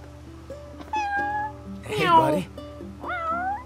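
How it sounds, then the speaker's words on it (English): A stray cat in Final Fantasy XV meows a few times in short rising calls against a steady game music backdrop, with someone briefly speaking in between. "there's a kitty. It's a kitty. It's a kitty."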